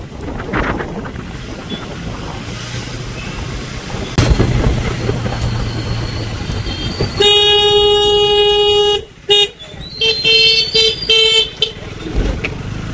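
Vehicle horns honk in traffic around a motorcycle on the road, with engine rumble and wind buffeting the mic, then several loud, sustained horn blasts in quick succession near the end.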